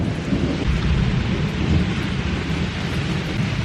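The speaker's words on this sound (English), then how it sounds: "Yay for a thunderstorm." A thunderstorm delivers a heavy, continuous roar of rain mixed with deep rumbling thunder, steady and loud throughout with no voices.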